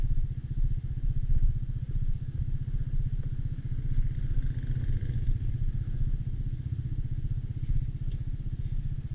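A motorcycle slides downhill on a mud-covered road in Kashmir, its engine giving a steady, close, low rumble throughout with faint clatter and no speech.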